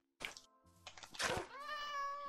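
A cat in the Minecraft video game gives a couple of clear, close meows, the last one drawn out and rising, with game thumps just before.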